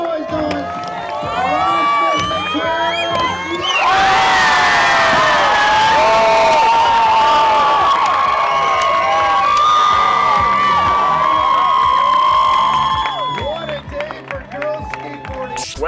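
A crowd cheers and roars loudly at a skateboarding event, a sustained swell of shouting and whistles that rises sharply partway through and then fades, with an announcer talking over it.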